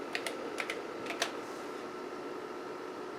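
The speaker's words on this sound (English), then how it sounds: "Let me test the, yep, keyboard seems to work" Typing on a Kaypro PC keyboard: a few quick clicky keystrokes in short clusters, then nothing but a steady low machine hum, fairly quiet and close.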